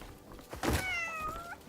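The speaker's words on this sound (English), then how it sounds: "Here, cat, you want to eat it?" A cat meows once in the video game Crimson Desert, a short rising-and-falling call heard close and clear after a soft thunk, with no talking over it.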